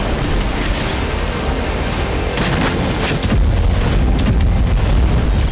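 Heavy booming blasts and rumbling explosions from tank guns, drones and missiles pound continuously in the Gaza Strip, loud and dense, with sharper bursts cutting through a constant roar.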